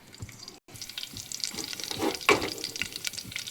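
Onion with ginger-garlic-cumin paste frying in a pan, a steady close sizzle with some stirring scrapes and a brief gap near the start, no talking.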